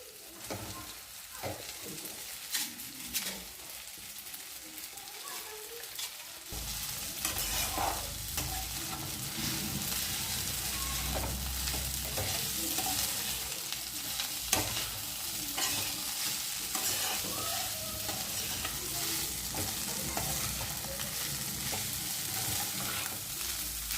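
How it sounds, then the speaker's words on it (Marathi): Pasta tossed into a hot pan lets out a steady frying sizzle, with repeated scraping and stirring of a utensil against the pan going on close up for a long stretch and no voices. "आता पास्ता टाकणार आहे मी इथे।"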